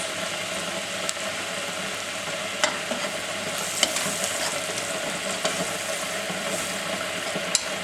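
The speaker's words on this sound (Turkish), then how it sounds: "Unumuzun kokusu gidene kadar kavuruyoruz." A spoonful of flour is stirred and roasted with softened onions in a pan for a lentil soup, giving a steady, moderate sizzle with scattered sharp ticks of the spoon against the pan, and no voices.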